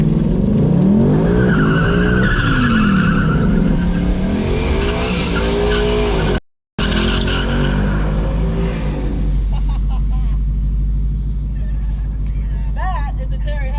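A drag race car doing a burnout, tires spinning and screeching under a loud revving engine for several seconds, a brief cut, then the engine settling into a lower idle-like rumble; a voice talks over the first half.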